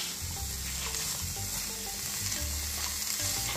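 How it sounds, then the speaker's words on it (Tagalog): Mushrooms and cabbage are tossed together in a hot frying pan, giving a dense, steady sizzle with rough stirring and scraping running through it, close and loud throughout, with no talking. "Tapos i-mix na natin yung ating mushroom."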